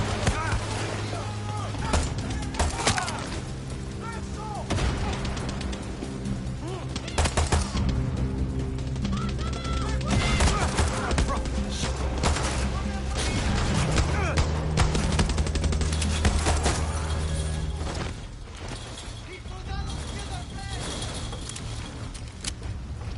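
Rapid gunfire and bursts of automatic weapons ring out in the video game Far Cry 6, with sharp cracks and clatter over an ongoing engine-like hum, and a voice talks at times over the action.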